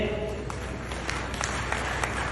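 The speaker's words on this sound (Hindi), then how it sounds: "मैं सभी से चाहूंगा कि अध्यक्ष महोदय के नाम पर एक जोरदार ताली हो जाए।" Applause from the audience at a regional Kumawat community convention in Mewar, Rajasthan, in 2023: a dense, steady wash of many hands clapping together, loud and continuous for a couple of seconds with some sharper claps standing out.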